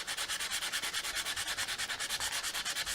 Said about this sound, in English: We'll just keep sanding that back until you're happy.